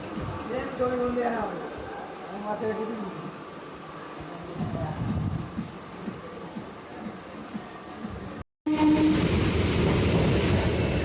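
A train rumbles and rattles steadily while people talk nearby, with a brief cut near the end.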